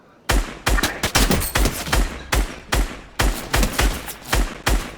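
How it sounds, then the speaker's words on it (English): Single shots from a fully automatic weapon in the Fortnite video game, around a dozen loud, punchy gunshots fired in an irregular quick cadence, some in near pairs, each with a short echoing tail. "single shots with a fully automatic weapon"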